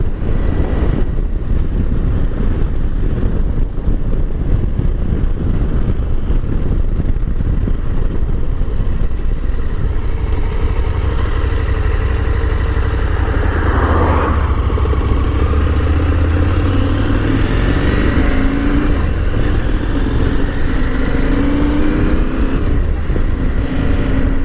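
Engine of a 2022 KTM 890 Adventure motorcycle while it is ridden, a loud continuous drone buried under heavy wind buffeting on the microphone, with pitch rising and shifting mid-ride.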